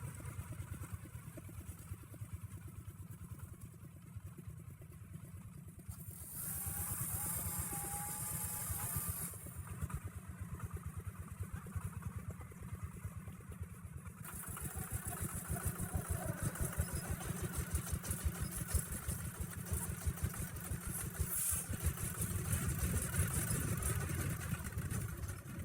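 A tractor engine runs steadily on a steep mountain slope during logging work, a continuous mid-pitched drone with rough rumble that grows somewhat louder partway through, with no talk.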